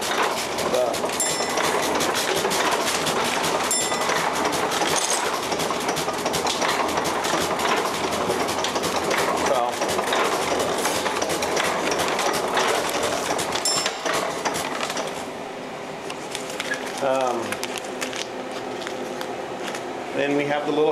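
A letterpress printing press runs in print mode with a steady, rapid mechanical clatter that continues throughout and eases slightly near the end, while someone talks over it.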